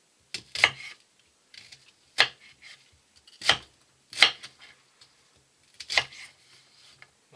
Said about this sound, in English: Start with some onion. Just cut it fairly chunky.